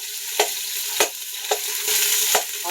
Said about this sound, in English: I'm going to go ahead and drop my ground beef in. And you are going to want to go ahead and cook this